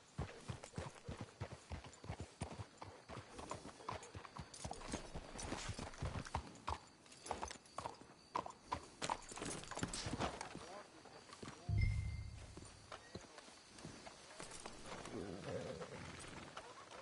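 Horse hooves clip-clop steadily along a trail in Red Dead Redemption II, a rhythmic run of close hoofbeats that slows and fades, with brief low mechanical thumps and talk in the background.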